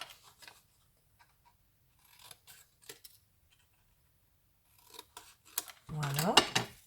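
Scissors snip through paper for a post-it notebook craft, with a few faint clips and quiet rustles, then one louder, closer cut near the end.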